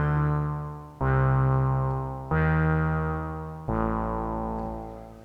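Three sustained synthesizer chords struck one after another, each bright at onset then slowly fading through a lingering amplifier release rather than cutting off, with no voices.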